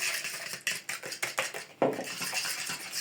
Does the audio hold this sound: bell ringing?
no